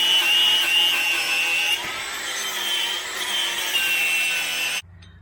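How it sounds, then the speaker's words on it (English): A wire wheel scrubs a car brake hub on a 2020 Ford Edge Titanium with a continuous high-pitched abrasive whir, close and fairly loud, easing slightly partway through before cutting off abruptly near the end. "Now I'm going to go ahead and just clean up this hub with the wire wheel."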